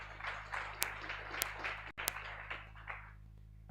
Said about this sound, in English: and we can clap for our panelists again.